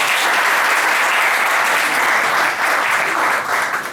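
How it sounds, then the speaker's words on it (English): Loud, sustained applause from a wine class audience right after a wine bottle is uncorked, dense clapping that holds steady for several seconds and tapers slightly at the end. "Big round of applause."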